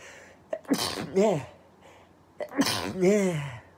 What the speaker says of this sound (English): about to sneeze.